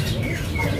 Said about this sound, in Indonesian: Burung langka.